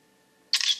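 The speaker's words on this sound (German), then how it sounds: "ich tippe wirklich den Auslöser nur ganz leicht an, seht ihr, und schon löst die Kamera aus" Shutter release of a Panasonic Lumix DMC-GM1 camera: a single crisp, close mechanical click with a brief bright rattle after a quiet moment.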